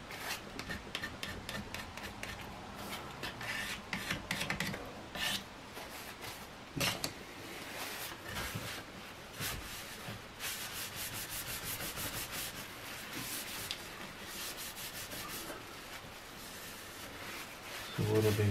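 A plastic card scrapes finish off the wooden stock of a Diana Model 50 air rifle in quick, rhythmic rasping strokes that continue steadily up close, with no talking.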